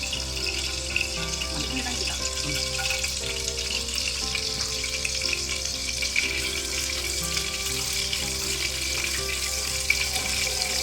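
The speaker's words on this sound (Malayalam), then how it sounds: "ഓയിൽ ചൂടായി വരുമ്പോൾ അതിലേക്ക് 5 ഗ്രാമ്പൂ, 1 ബേ ലീഫ്, 1 കറുവപ്പട്ട, 5 ഏലയ്ക്ക, 1 ടേബിൾ സ്പൂൺ ചെറിയ ജീരകം" Whole cloves, bay leaf, cinnamon, cardamom and cumin frying in hot sunflower oil in a pan, a steady close sizzle that continues without talk.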